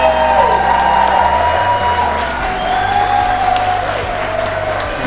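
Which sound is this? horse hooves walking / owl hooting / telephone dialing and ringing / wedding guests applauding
wedding guests applauding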